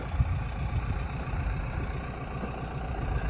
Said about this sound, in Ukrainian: Значить, закриваю вологу цим трактором.